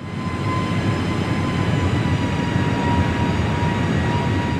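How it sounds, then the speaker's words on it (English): Airbus airliner engines just after takeoff with thrust being reduced, a steady loud broadband roar with a faint sustained tone, heard from inside the cabin with no talk. "it's a distinct slowdown of the engines"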